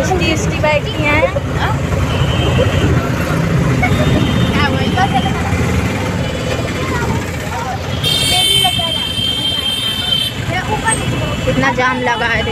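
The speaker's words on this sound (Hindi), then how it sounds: "कितना जाम लगा है, देखिए इतना जाम लगा।" Traffic jam on a busy market road: a dense wash of engines, idling buses and vehicles, with repeated horn toots and crowd chatter, voices talking throughout, and a long sustained horn blast midway.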